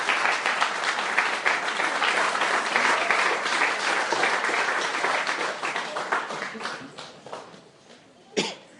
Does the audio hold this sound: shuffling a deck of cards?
no